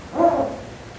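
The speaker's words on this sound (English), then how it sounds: "That's the barred owl." A single short hoot from a barred owl sounds once, moderately faint, against quiet background.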